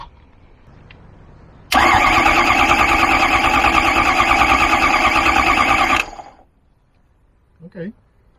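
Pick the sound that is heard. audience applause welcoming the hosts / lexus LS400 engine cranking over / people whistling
lexus LS400 engine cranking over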